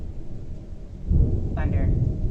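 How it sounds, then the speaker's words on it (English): Thunder from a storm outside rolls in as a deep, low rumble that swells about halfway through and lingers, fairly loud against a quiet indoor background. "Thunder."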